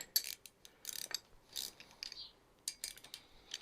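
A ratchet wrench clicks as bolts are loosened on a Kawasaki Z1 900 motorcycle engine, with short bursts of close metallic ratcheting separated by brief pauses.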